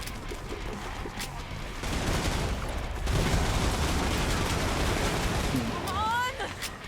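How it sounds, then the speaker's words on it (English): Continuous gunfire blazes at the Abomination boss in the video game Killing Floor 2, a dense and loud barrage of shots with rising electronic squeals near the end and a voice faintly audible beneath. "we shot him in the body there"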